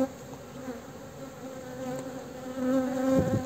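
Honey bees hum steadily around an opened hive frame during colony splitting, a close continuous drone that swells slightly toward the end, with no speech.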